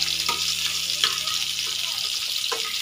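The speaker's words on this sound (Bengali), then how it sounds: "এখন বেগুনটা ভাজি করতেছি" Eggplant slices fry in a pan with a steady, dense hiss of oil that stays loud and even throughout, with a few faint knocks and clinks near the pan.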